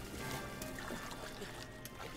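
Water draining in Zelda: Breath of the Wild, heard as a low, steady trickling and pouring wash that runs continuously without pause at a fairly quiet level.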